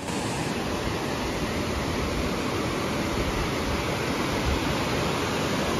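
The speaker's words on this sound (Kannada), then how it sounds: "ಅದು ನೀರು ಅಷ್ಟು ರಭಸದಲ್ಲಿ ಬಂದಿದೆ" Forceful river water rushes past a broken bridge at a dangerous water crossing, making a loud, steady, unbroken roar throughout with no voices.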